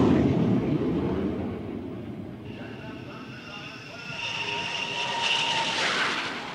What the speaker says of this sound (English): An around-the-clock all-weather bomber, the A-6 Intruder.